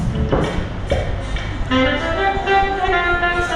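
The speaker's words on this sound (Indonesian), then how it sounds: "Bunyi saksofon" A saxophone plays a short melodic phrase of sustained notes, moderately loud, with some background noise and soft tapping underneath.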